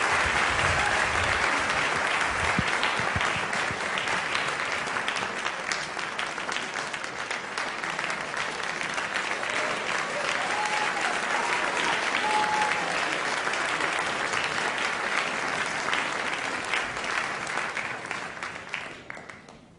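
A large audience applauds as scientists are welcomed to a stage, a long, even roar of clapping that holds steady for nearly twenty seconds before tapering off at the end.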